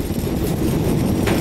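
A CSX freight train is shoved along the Palmetto Subdivision, giving a low, heavy rumble of rolling cars that stays steady and fairly close, with no voices over it.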